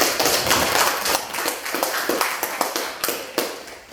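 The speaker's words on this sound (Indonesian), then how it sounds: "tepuk tangan dulu semuanya" Students in a classroom clap together, a near, fairly loud burst of rapid, uneven hand claps that continues for a few seconds, with no talking.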